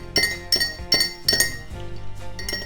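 A spoon clinks against a glass while ginger tea with lemon and honey is stirred, giving four sharp ringing strikes at a steady rhythm followed by softer, quicker taps, close and clear with no talk.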